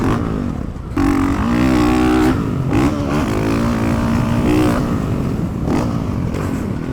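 A Honda CRF450R motocross bike engine roars loudly up close during a jump on a dirt track, dropping away briefly, then surging back with sustained high revs and a few sharp throttle blips toward the end.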